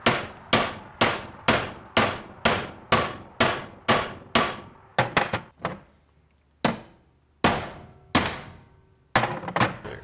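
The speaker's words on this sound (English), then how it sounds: "I'm just going to pound this until it's flush to the point that you get your snap ring on." A hammer strikes a U-joint cap on a John Deere 640, giving a steady run of loud, sharp metallic blows about twice a second, then a few more spaced hits after a short pause, close up.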